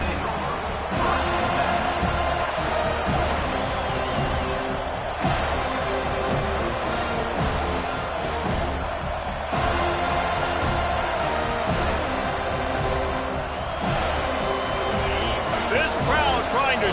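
A home crowd at an Auburn versus Florida State college football game roars in a dense, sustained wall of noise with sharp bursts and claps, while a commentator talks over it.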